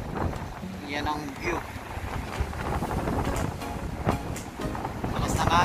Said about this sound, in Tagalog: Malas ng hangin.